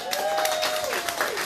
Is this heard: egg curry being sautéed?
no